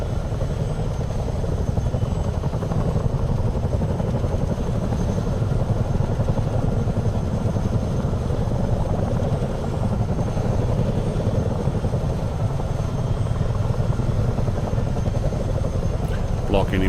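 A Chinook helicopter in Microsoft Flight Simulator 2020, flying at night, makes a continuous low rotor thrum and engine drone that stays steady for the whole stretch, with people talking over it.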